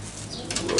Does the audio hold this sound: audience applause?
no